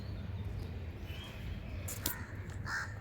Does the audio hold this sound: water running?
no